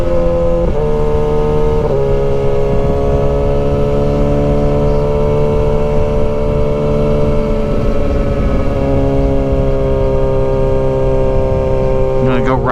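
A 2023 Kawasaki ZX6R motorcycle engine cruises with a steady, loud, continuous drone that holds a constant pitch, with a brief shift dip near the start and a rising rev toward the end.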